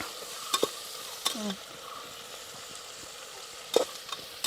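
Onions frying in a pan while being stirred, a soft steady sizzle broken by sharp spoon knocks and scrapes at irregular intervals, close and fairly quiet with no speech.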